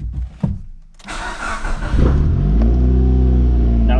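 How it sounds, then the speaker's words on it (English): A car's engine cranks and catches after a short quiet pause, then revs up and settles into a high, steady, loud idle close by. "So if I turn the motor on,"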